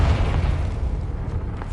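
A Confringo blasting spell detonates in the Hogwarts Legacy video game, a loud, sustained low boom rumbling steadily for nearly two seconds with no talk over it.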